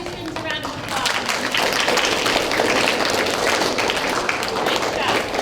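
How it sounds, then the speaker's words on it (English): An audience at a fifth grade school celebration breaks into sustained applause for the students, a dense, loud wash of clapping that swells after the first second and holds steady. "All right, let's give these students a round of applause."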